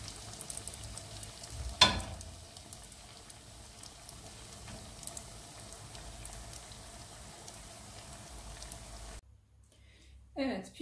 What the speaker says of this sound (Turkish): Son pişlerimi de şöyle kızartıyorum.